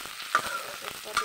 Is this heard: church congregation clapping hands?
no